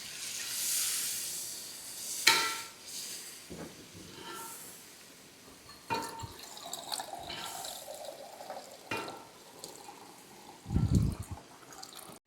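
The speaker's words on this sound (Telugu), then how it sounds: "ఇప్పుడు వాటర్ పోసుకుందాం కొన్ని." Water poured into hot hotel-style kurma gravy gives several intermittent hissing, sizzling bursts, one louder near the end, with brief clatters between them.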